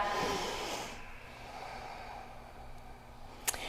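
One long, full yoga breath during a studio flow class, with a broad airy breathing sound that fades out, ending in a brief sharp exhale or snort, close and alone without talk.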